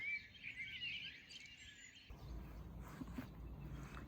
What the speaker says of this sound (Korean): 새가 너무 시끄럽죠?